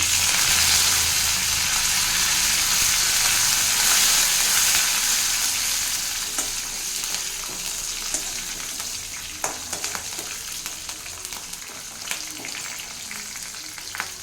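Green chillies and curry leaves frying in hot oil, a loud, dense sizzle at the start that gradually eases into softer crackling with occasional pops, no voices.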